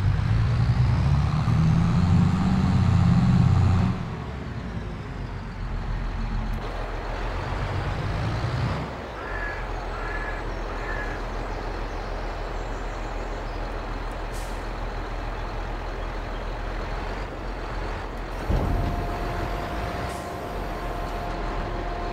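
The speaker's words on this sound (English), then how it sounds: "I love the sound of this tractor." Engine of a tractor in the video game Farming Simulator 22, a steady low drone with air-brake-like hisses, a change in tone partway through and a higher whine near the end, with no talking.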